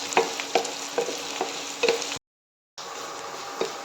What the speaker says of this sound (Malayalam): നല്ലപോലെ ഇനി ഇതിനെ വഴറ്റി കൊടുക്കണം.